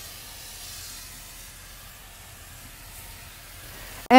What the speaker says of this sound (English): So now I'm just going to take my hand sprayer. It's my Rayzist hand sprayer,